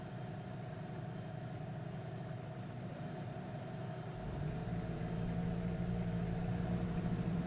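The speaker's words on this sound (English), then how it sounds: "I do like this sound as this lot start their engines up." Racing cars in a video game start their engines on the grid at Suzuka, a steady idling rumble that thickens and grows louder partway through as more engines fire up.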